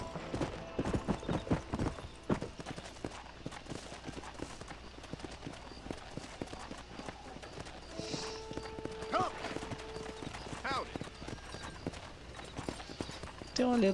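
Galloping horse hooves in the Western video game Red Dead Redemption, a run of quick, sharp clip-clops near the listener, with a brief whinny and light game sounds behind them.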